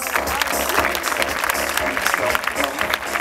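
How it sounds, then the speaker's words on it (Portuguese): Loud, dense applause from a crowd at an eco fashion show, continuous clapping filling the whole moment with a faint murmur of voices underneath. "Forte aplauso."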